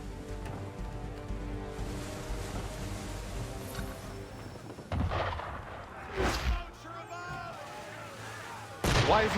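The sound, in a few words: ship shooting at boat in Assassin's Creed III video game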